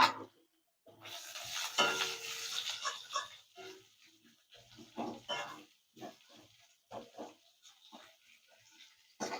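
Onion dropped into hot oil and stirred, giving a burst of sizzling followed by intermittent scraping and frying crackles in short uneven pulses, close but fairly quiet.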